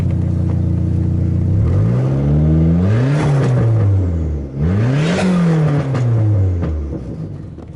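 A Dodge SRT-4 engine, after a wiring repair, revving repeatedly above 2,500 RPM, a loud close whir rising and falling in two long sweeps with a deep rumble underneath, then settling back toward idle.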